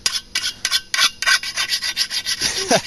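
A hand file scrapes rust off the metal of a lawnmower's tank tracks in quick, rough back-and-forth strokes, close up and loud, with no voices.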